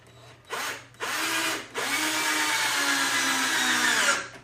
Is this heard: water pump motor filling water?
no